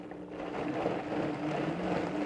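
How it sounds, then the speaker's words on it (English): A blender whirs up to speed pureeing a sorrel dressing, its motor a steady buzzing drone that rises over the first half-second and then holds constant, moderately loud, with no voices. "So we're just going to go ahead and turn the blender on."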